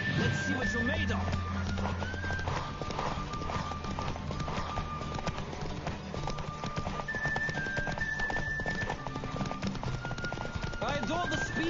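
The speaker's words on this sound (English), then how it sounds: "The Roach I chose put in a nice run" A horse gallops in The Witcher video game with steady, rapid hoofbeats under a constant rush of air and game sound, while a voice talks throughout.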